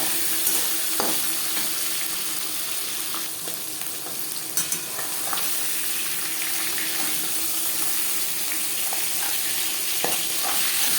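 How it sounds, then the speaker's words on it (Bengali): Pangas fish fries in hot oil in a pan with a constant close sizzle. Occasional clinks and scrapes come through as the pieces are turned over, and there is no talking. "মাছ একটা সাইড ভাজা হয়ে গেলে অপর সাইডটা উল্টে দেবো।"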